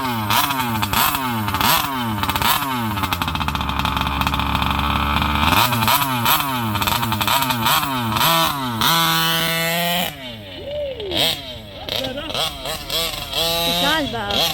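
A SCZ 70cc motorcycle engine with a new cylinder revs loudly and close, its pitch climbing and falling through repeated throttle blips; people talk and cheer over it toward the end.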